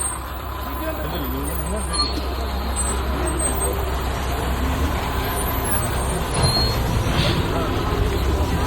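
A heavy lorry engine rumbles steadily up close with a low droning hum, while people talk over it.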